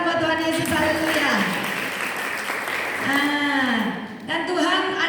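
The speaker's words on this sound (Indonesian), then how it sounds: "beri tepuk tangan buat Tuhan Yesus" Clapping from a church congregation during an Ascension Day worship service, a continuous spread of applause underneath a preacher's voice that keeps talking over much of it.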